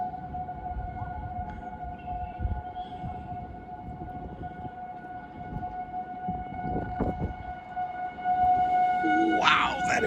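A monthly tornado warning siren test sounds out of doors, a sustained wailing tone holding steady over background rumble and traffic-like noise, with a brief louder burst near the end.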